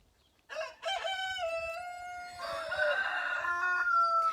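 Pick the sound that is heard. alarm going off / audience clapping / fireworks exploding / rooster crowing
rooster crowing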